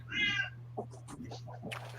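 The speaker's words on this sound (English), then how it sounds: "Somebody's cat is pissed off." A house cat meows loudly and close by, an agitated drawn-out yowl followed by a few shorter, fainter calls over a steady low hum, with no talking.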